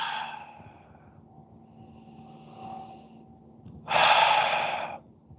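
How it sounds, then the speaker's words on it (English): Deep breathing during a guided meditation session: a slow inhale near the start, a quiet pause, then a long, strong exhale a few seconds later, close and soft against a faint hum. "Take a deep breath with me again."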